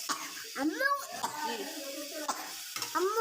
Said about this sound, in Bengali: মাংসটা আর আলু টমেটোটা একেবারে দিয়ে কষিয়ে নেব